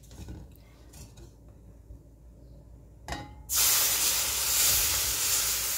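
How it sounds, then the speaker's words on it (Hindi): Half a litre of full cream milk poured into roasted semolina in a hot pan: a few soft clinks, then a sudden loud, steady hiss of steam rising close up and holding. "तो आधा लीटर फुल क्रीम दूध मैं इसमें डाल रही हूँ"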